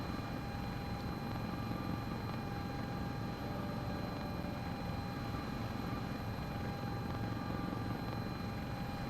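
An S-76 helicopter in MSFS 2024 gives a steady, faint, continuous rotor and turbine drone with a constant high whine, unchanging throughout and with no talking.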